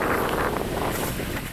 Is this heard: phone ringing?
no